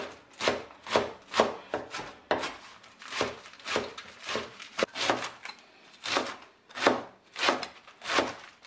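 A knife chops rolled callaloo leaves into 1 cm strips on a cutting board, sounding as a steady run of sharp, close thuds and clicks, about two per second, with no one talking.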